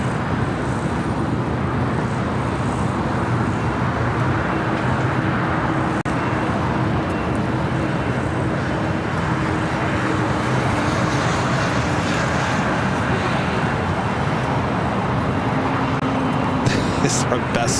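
Finnair Flight 1 airliner from Helsinki arriving on the south side at LAX, a steady broadband roar of jet engine and ramp noise that holds throughout, with voices talking over it.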